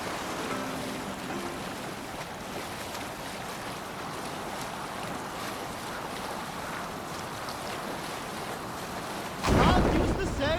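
Sailing ship crossing open ocean waves in Assassin's Creed Valhalla, a steady broadband wash of water and wind rushing past the hull, loud and continuous, with a louder splash near the end.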